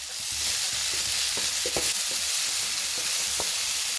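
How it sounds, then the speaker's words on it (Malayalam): Masala sizzles in hot oil in a pan while a spoon stirs it steadily, a constant frying hiss broken by soft scraping knocks of the stirring, close and with no talk. "നല്ല മൂത്ത് എണ്ണ തെളിയുന്ന വരെ നമ്മളിത് ഇങ്ങനെ ഇളക്കിക്കൊണ്ടിരിക്കണം."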